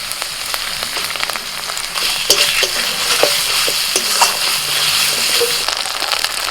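Ginger, cumin, green chili and dried chili paste frying with onion paste in hot oil makes a steady close sizzle, broken by scattered clinks and scrapes of a spoon stirring in the pan.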